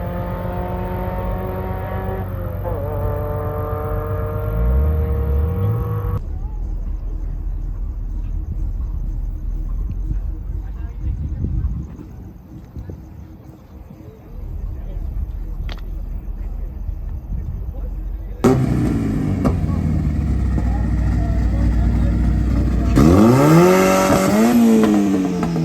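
Cars accelerating hard with rising engine notes and gear changes at a night drag race meet, loud nearby revving and roaring that fades to distant rumble before swelling again as more cars launch.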